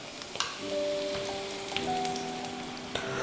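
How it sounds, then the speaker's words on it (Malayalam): Dried red chillies hit hot coconut oil in a pan for a tamarind-ginger curry, giving a steady close crackling sizzle with a few sharper pops, no voices. "ഞാൻ ഇതിലേക്ക് മുളക് ഇടാണ്."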